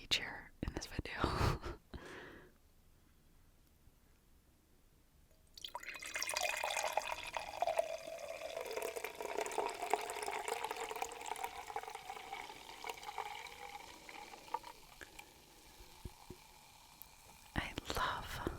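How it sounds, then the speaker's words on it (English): A fizzy alcoholic drink is poured into a glass, its steady hiss and crackle of bubbles starting partway through and carrying on softly and close, with a few brief knocks at the start and end. "I love the after effect of just the sound of the fizz after you pour one of these."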